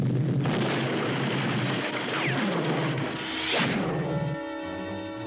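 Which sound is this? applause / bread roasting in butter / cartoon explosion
cartoon explosion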